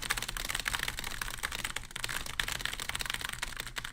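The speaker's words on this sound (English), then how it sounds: "I got to see him typing again." Very fast, continuous typing on a straight computer keyboard, a dense close-up rattle of key clicks with no pauses and no talking.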